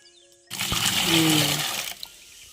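Onion-peel soaking water, a fertiliser liquid for garden plants, is poured out of a container in one steady splashing stream lasting about a second and a half, then stops, close by with no talking.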